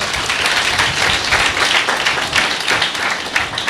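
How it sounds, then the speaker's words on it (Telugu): A church congregation claps during a Sunday service, a dense and loud burst of applause that carries on without a break across the whole stretch. "చప్పట్లు కూడా దేవుని స్తోత్రం చెల్లిద్దాం"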